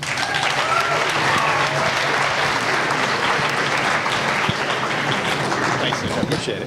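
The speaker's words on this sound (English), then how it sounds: "He got all kinds of applause." A career expo audience applauding to welcome a speaker, dense sustained clapping filling the room from start to finish, loud and steady.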